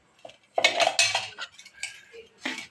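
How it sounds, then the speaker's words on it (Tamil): Dry rava semolina roasting in a pan for rava idli, with a spoon repeatedly scraping and clinking against the metal in uneven bursts, fairly close and with no talk. "இப்போ இந்த ரவையை நல்லா வறுத்துக்கலாம்."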